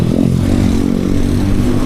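A motorcycle on a ride near Cabanatuan toward Palayan and Baler roars up close, its engine revving loudly and steadily with a throbbing, buzzing drone and no talk over it.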